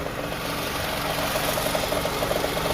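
A 2007 Scion tC engine idles close by with a steady, rumbling drone and a faint rhythmic knock, holding even loudness without pauses.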